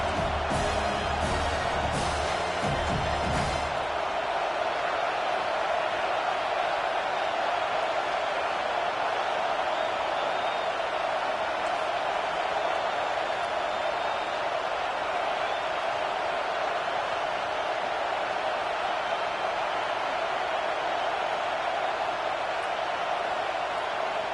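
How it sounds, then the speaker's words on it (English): A football stadium crowd at Penn State versus Michigan gives off a steady, dense roar of noise, with a brief burst of rumbling activity at the start and then a continuous wash of distant crowd sound. "This crowd bringing the energy and noise early"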